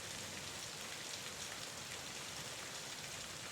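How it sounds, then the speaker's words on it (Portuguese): Steady, dense rainfall hisses evenly throughout, a constant soft wash of drops with no other sounds. "Se você está gostando dessa atmosfera sombria ao som da chuva"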